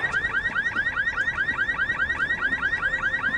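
A car alarm going off close by, a loud, fast, rhythmic warbling of repeated rising chirps that cycles steadily and evenly with no talking.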